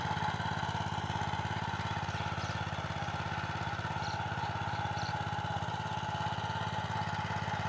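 A power weeder's engine runs steadily on a freshly tilled farm field, a continuous mid-pitched chugging drone that stays loud and unbroken throughout, with no talking.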